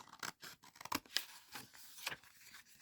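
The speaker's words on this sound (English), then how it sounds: "I'm just going to cut off the excess." Quiet, close scissors make a quick series of crisp snips as excess paper is trimmed away for a junk journal, with no talk.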